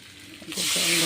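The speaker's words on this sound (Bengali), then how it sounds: "জল ঢেলে দিলাম।" Water poured into a hot pan of spiced potato masala sets off a sudden sharp hiss that swells and holds for the last half second, with a faint voice in the background.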